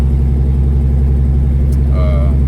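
A truck engine running while driving with a steady low drone that stays loud throughout, joined near the end by a faint higher whine, the weird noise of a fault.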